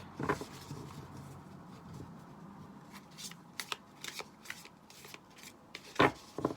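Tarot cards shuffled by hand for a reading, a quiet run of soft riffling and slapping bursts with a sharper snap near the end, no talking.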